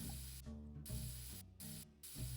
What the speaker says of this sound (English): Turn on the silent jukebox and green spray. This time, we'll be careful with the spray.